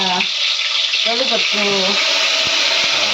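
Mustard seeds and cumin sizzle in hot oil as tempering for a jackfruit vegetable dish, a steady close hiss running throughout beneath a person talking.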